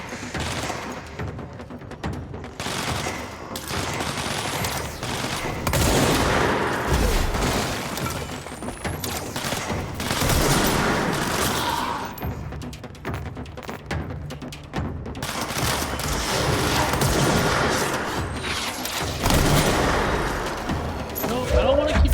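Sustained enemy gunfire in the video game Control, rapid overlapping bursts and impacts that keep going with brief lulls, near and loud, with a voice now and then.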